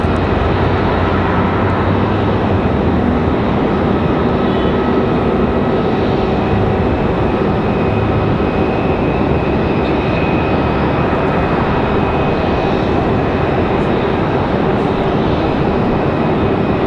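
Boeing 777 airliner on landing approach with full flaps at Raleigh-Durham International Airport, a steady loud engine roar and rushing air holding evenly throughout, with no talk.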